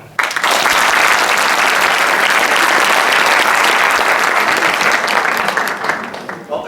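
A theatre audience bursts into loud, sustained applause that starts abruptly and holds dense and steady for several seconds before tapering slightly at the end.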